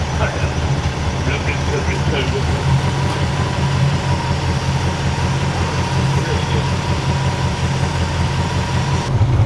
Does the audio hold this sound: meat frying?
no